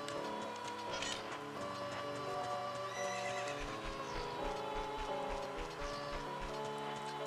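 Horses neigh and whinny in the video game Ocarina of Time, with hooves clip-clopping in a steady rhythm beneath a continuous layer of game music.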